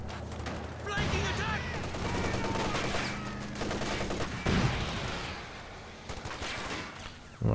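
Machine gun fire crackles in Company of Heroes 2 as bursts of distant battle gunfire and explosions under a faint continuous background of combat.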